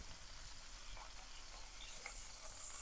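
Oxtail searing in a hot pan, a steady, soft crackling sizzle with faint scattered pops, quiet and continuous throughout.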